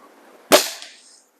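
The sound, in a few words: RWS Diana Model 34 air rifle shot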